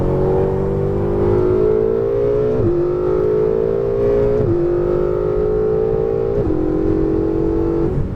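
A Ferrari 488 GTB accelerates hard on a race track, its engine note climbing loudly and steadily, then dropping briefly at each quick upshift, three shifts in a row with no voices.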